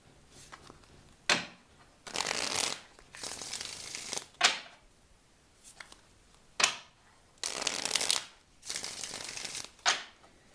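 Old 1890s Parisian French school card deck being shuffled in repeated bursts, each riffle a crisp papery flutter lasting a second or so, separated by short quiet pauses, close and clear with no talking.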